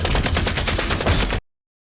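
Dense gunfire from a film scene rattles in a rapid, continuous automatic burst, loud and close, then stops abruptly into silence.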